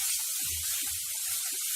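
Turmeric, coriander powder and Kashmiri red chilli powder frying in oil make a steady, faint sizzling hiss with soft low bumps underneath.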